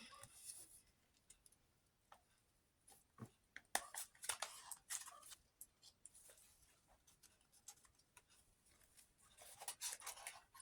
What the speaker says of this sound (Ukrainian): Блін, я так не зможу відкрити, треба все ж таки відрізати.